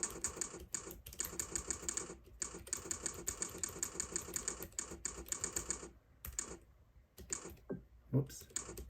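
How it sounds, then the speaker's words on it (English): Rapid typing on a Keychron K3 keyboard gives a dense, close run of clicky keystrokes for several seconds. It thins out and pauses near the end, and a few scattered key presses follow. "let's try the typing test again with this KeyChron K3"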